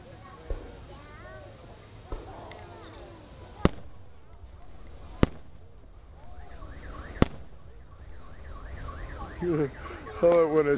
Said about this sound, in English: Oh, when it sets off an alarm.